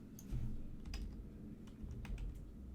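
Computer keyboard typing in a quiet office setting, a handful of quick clustered keystrokes with short pauses between bursts, fairly close and moderately soft over a low background hum.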